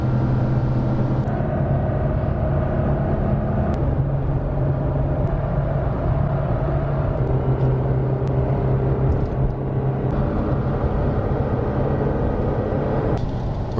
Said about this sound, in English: The truck had to go in a pretty high RPMs to get up this mountain here.